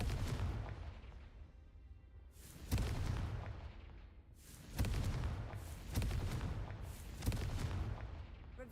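Repeated fiery spell blasts from the Confringo curse in the Hogwarts Legacy game, several booming bursts spaced a second or two apart over a low rumbling background.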